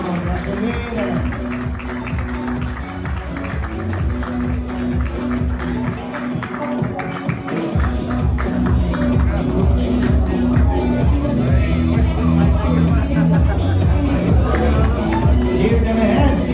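Sustained applause and crowd noise from an audience at the 2022 Istanbul Open doubles awarding ceremony, loud and steady throughout, with background music and babble underneath.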